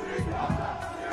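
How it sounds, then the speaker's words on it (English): Crowd at a Tyson Fury versus Deontay Wilder boxing weigh-in chanting "you big dosser", a dense, steady roar of many voices rising in short rhythmic surges. "You big dosser is the chant"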